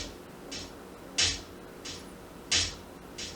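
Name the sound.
live hi-hat drum pattern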